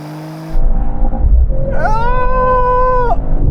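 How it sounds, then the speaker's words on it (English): A performance car engine screams at high revs during a drag race, its tone jumping and holding flat as it bounces off the rev limiter, loud and close under a deep rumble. "I was bouncing off the limiter there."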